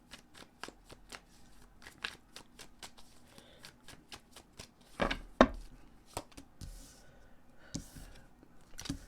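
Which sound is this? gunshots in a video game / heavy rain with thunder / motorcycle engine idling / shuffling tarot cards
shuffling tarot cards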